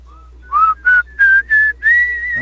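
A person whistles a short rising tune of five clear notes, close and alone with no other sounds.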